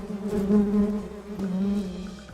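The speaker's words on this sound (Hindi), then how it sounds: "मधुमक्खियों के इस झुंड और इनके भिनभिनाने की आवाज" A swarm of honey bees buzzes loudly and up close, a dense droning hum that swells and dips in volume, kept by village women beekeepers.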